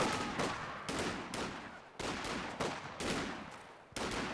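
Machine gun fire rattles in short, regular bursts during a Company of Heroes 2 2v2 match, each burst starting sharply and fading, with about eight repeated volleys at moderate loudness.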